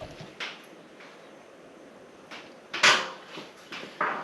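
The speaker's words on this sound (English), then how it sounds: "that large clunk we heard was my drill, still inside the cabinet." A drill knocks about inside a Donkey Kong arcade cabinet being restored, giving a few hollow wooden clunks and knocks at irregular intervals. A louder thud comes near the end, with quiet gaps between the hits.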